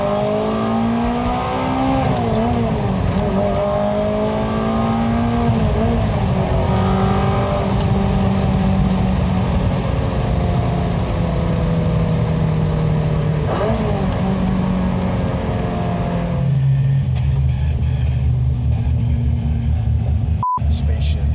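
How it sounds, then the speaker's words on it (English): A Ferrari driven at night on a Tokyo highway roars through rising and falling gear pulls, its engine note climbing in pitch, then settling into a lower cruise drone, loud and close throughout. "we're gonna give you some sights and sounds with the Ferrari on our drive back."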